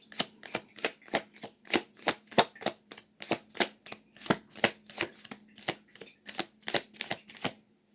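Tarot cards shuffled by hand, a quick run of crisp, close riffling snaps repeating in a steady rhythm with no voices over them.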